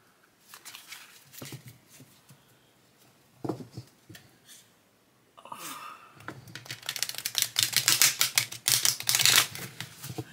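Crisp riffling and flicking of oracle cards, sparse at first, then a dense run of rapid papery snaps as the deck is shuffled close up.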